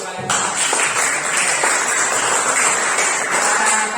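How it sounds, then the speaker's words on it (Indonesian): Students in an Indonesian classroom applaud together in a dense, continuous patter of clapping that holds at an even, loud level for nearly four seconds. "tidak ada yang lebih tepuk tangan untuk kalian"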